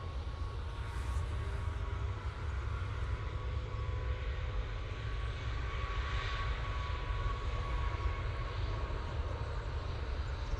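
Ryanair Boeing 737 MAX 8 jet departing Manchester Airport, a steady loud engine roar with broadband rumble and whine holding throughout.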